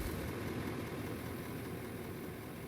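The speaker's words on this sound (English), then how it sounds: "So start the engine." A bucket loader engine in the video game Out of Ore runs as a steady, dense low rumble that is loud and close and holds without break.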